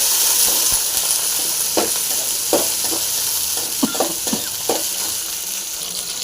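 Black pepper, garlic, chili and ginger fry in hot oil in a pan for a kuppaimeni soup, making a loud dense sizzle with occasional spoon knocks and stirring scrapes up close.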